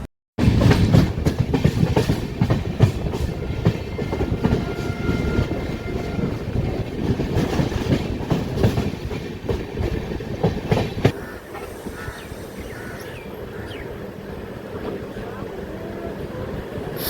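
Kriya Yoga Express running from Howrah to Ranchi, a loud continuous rumble with rapid clickety-clack from the wheels that drops to a quieter, smoother roll near the end, heard from inside the train.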